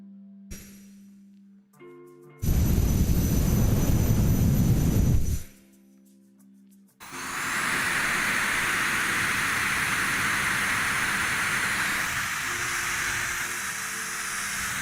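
A small handheld battery-powered fan whirs with a loud, steady jet-like rush, cutting in for a few seconds, stopping, then running again continuously for several more seconds, close to the listener.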